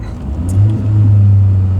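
Car with a custom 2.5-inch stainless steel exhaust and added resonator revving, a steady loud low drone that swells and holds, close by, with no voices.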